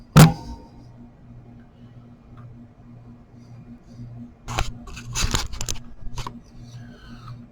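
Resistor leads trimmed with cutters at a soldering bench while fitting parts to a CM108 USB sound card, a sharp snip near the start then a cluster of small clicks and snips later, close and fairly quiet over a low steady hum.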